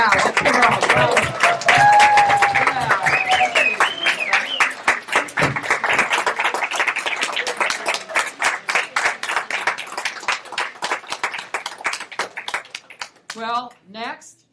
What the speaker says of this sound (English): let's give her a applause.